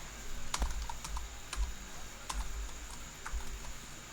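Typing on a computer keyboard while coding a student registration form, a close run of quick, uneven key taps with short pauses between bursts.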